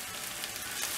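Onion and garlic frying in a pan, a brief soft even sizzle heard up close with no voices.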